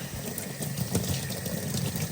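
Water runs steadily from a tap while rinsing calcium deposits off a 2014 Audi A6 TDI DEF reductant pump part, a close, continuous hissing splash with no voices.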